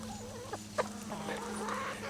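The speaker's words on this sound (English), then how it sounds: "And more chickens are coming." Backyard hens cluck faintly in short, scattered notes, with a couple of sharper clucks above a steady low hum.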